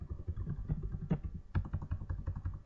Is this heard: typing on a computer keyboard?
yes